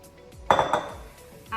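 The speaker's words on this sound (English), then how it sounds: "So now, first I'm going to add the brown lentils." Brown lentils tipped into a bowl while making veggie patties, giving one short, close clattering burst with a lighter clink just after, and no talking.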